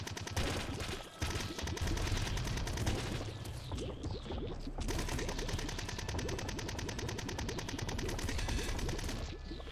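Rapid, dense weapon gunfire from the video game Nuclear Throne crackles in loud bursts nearly throughout, with a brief pause midway before the rattling shots resume.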